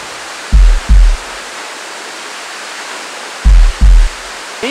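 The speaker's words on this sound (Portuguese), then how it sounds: "do lado dessa cachoeira linda" A waterfall roars as a steady, dense rush of water that runs unbroken throughout, with a few pairs of low thumps over it.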